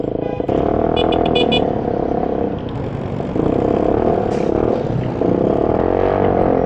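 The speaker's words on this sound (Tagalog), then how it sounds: "Walang sinabi yung busina ng motor sa ingay tambucho na ito." An Italjet motor scooter with a loud aftermarket exhaust, in traffic, blares close by with a rough, droning rasp that swells and eases twice, with a brief horn-like beeping early on.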